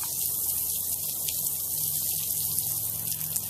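Water running steadily from garden hoses outdoors, a constant hiss and splash at moderate distance with no pauses.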